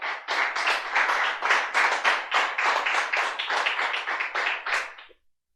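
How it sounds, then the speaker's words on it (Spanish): A church congregation claps for about five seconds in a steady, fast, rhythmic burst that is loud and close, then the clapping stops abruptly into silence. "Den un aplauso al Señor."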